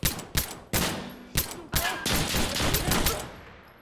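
Rapid gunfire in the video game Insurgency Sandstorm on the Farmhouse map, a string of sharp, loud shots in an uneven rhythm with a denser burst toward the end.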